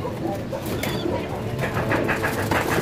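Pigeons coo softly inside a loft, several low throaty calls overlapping amid faint rustling and occasional sharp bird noises, with no clear talk.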